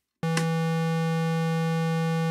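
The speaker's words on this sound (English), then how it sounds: "Similarly, no modulation, a slightly different pitch." A bright, steady oscillator tone from a Benjolin modular synthesizer, unmodulated, starts abruptly after a brief click and sustains at a constant pitch with no wavering.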